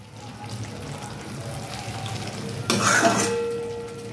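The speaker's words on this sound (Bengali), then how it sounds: "এইভাবে নাড়তে থাকবো" A spoon stirs cabbage mash with butter in a pan, giving a soft background scrape and then a louder burst of clattering and sizzling scrapes near the end.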